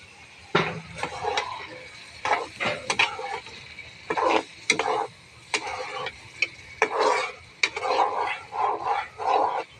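Snakehead fish added to spice masala in a pan and stirred, giving loud irregular bursts of scraping and wet stirring close by, separated by short quiet gaps.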